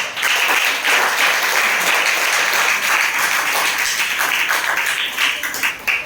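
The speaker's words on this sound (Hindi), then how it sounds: "जोरदार तालियां।" A school audience in a classroom science assembly bursts into loud, dense applause that holds steady for about six seconds, with no talking over it.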